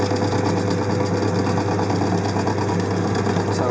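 An electric motor drives an oil test rig with a rotating bearing, running as a steady, loud, continuous hum and whir with no breaks, close up, and no talk over it.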